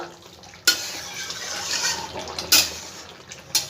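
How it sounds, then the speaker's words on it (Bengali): Coriander leaves being stirred into a jackfruit curry in a pan, with soft scraping and wet stirring noises punctuated by three sharp utensil knocks against the pot, close by with no talking. "ভালো করে ধনেপাতাটা মিশিয়ে দেবো।"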